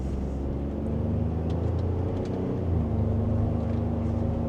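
A Ford F150 pickup in sport mode pulls away gently in second gear, its engine giving a steady low rumble that rises slightly in pitch partway through the clip and then settles into a drone, heard from inside the cab.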